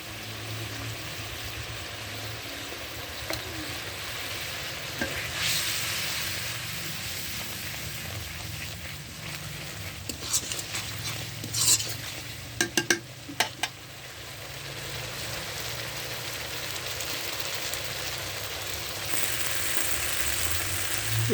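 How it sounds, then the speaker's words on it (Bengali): Spice masala with turmeric and dried chilli powder frying for a catfish and potato curry, a long steady hiss of sizzling oil with a few brief clinks and stirring sounds partway through; no voices. "দেখেন মশলা কষানো হয়ে গেছে।"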